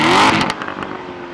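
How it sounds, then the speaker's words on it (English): A 2014 Chevrolet Corvette Stingray Z51 with its exhaust set to race mode gives a loud, close burst of engine roar that fades into a steadier drone over just over a second. "This is the loudest, lowest restriction exhaust mode there is."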